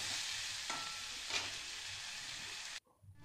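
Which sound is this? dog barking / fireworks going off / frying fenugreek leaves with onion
frying fenugreek leaves with onion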